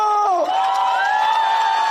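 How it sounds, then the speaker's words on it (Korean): A political campaign rally crowd cheers and shouts in a loud, sustained roar, with whoops rising over the massed voices at close range. "다시 한 번 뜨거운 함성으로 박수를 함께 해주십시오"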